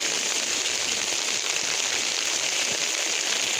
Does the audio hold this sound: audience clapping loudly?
no